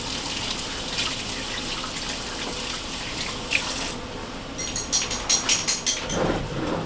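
Running tap water splashes steadily into a kitchen sink during hand washing, with a brief burst of clattering and splashing near the end as hands move under the stream.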